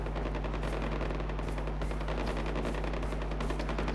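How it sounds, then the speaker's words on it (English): A machine gun fires without a break in the video game Far Cry 4, a dense, loud, rapid rattle of shots over a low, steady hum for the whole stretch, with nobody talking. "Oh, you can control the machine gun,"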